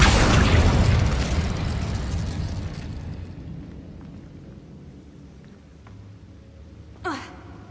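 An Incendio fire spell cast in the Hogwarts Legacy video game: a loud, close burst like a whoosh or boom that fades slowly into a lingering rumble, followed by a brief, bright magical flourish near the end.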